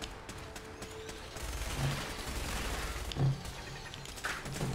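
Gunfire in Fallout 4 during a fight against Institute synths, heard as a few muffled shots and bursts spread across the moment over a steady game background, with no voices.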